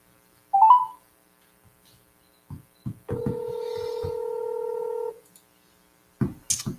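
A telephone call is dialed: a short tone, a few clicks, then a steady beep for about two seconds and a few more clicks, with no ring heard and quiet between.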